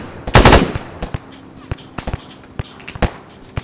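In the military video game Arma 3, a loud close burst of gunfire opens, followed by scattered sharp single shots and distant reports over a quiet battlefield background.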